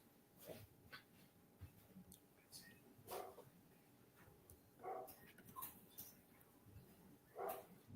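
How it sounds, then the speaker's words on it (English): A dog whimpering and giving faint yips and soft barks in the background, intermittent and distant, with quiet room noise between. "That's my dog in the background."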